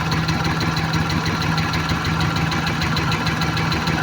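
A multicab's engine idling roughly with a misfire, a close, continuous low rumble carrying an uneven knocking pulse.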